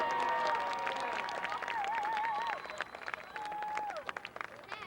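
Outdoor crowd applause at a Fourth of July event at Crissy Field in San Francisco, scattered clapping of moderate loudness with whistles and tonal sounds over it, thinning toward the end.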